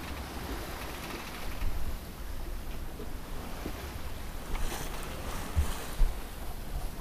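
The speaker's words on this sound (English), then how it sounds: "Very light wind, sailing from Francis Bay across Pillsbury Sound." A sailboat moves in very light wind across Pillsbury Sound from Francis Bay, a soft steady wash of water and gentle wind rumble with occasional light slaps against the hull.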